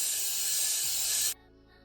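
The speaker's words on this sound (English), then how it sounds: "I'm going to take my Got To Be Free spray and I'm going to spray it on the brush" Got To Be Free hair spray sprayed onto a hair brush: one continuous close, bright hiss lasting over a second before stopping abruptly.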